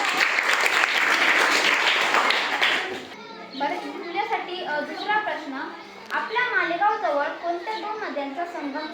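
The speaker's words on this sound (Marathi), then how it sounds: "समोरच्या साईड सगळ्यांनी टाळ्या" Children clap for about three seconds at a primary school quiz program, loud and dense applause close by. It then stops and gives way to children chattering and talking.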